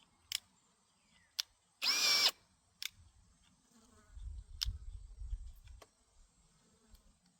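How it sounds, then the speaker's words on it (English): A cordless drill whirs in one short, sharp burst, surrounded by isolated clicks and a low rumbling thud. "My drill battery died."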